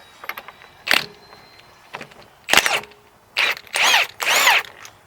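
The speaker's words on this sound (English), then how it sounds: "now we're just going to use our impact gun to pull this pulley off." Impact gun pulling the crankshaft pulley off a Hyundai Elantra with a 2.0L engine during timing chain work, short loud whirring bursts with gaps between them, up close and growing longer toward the end.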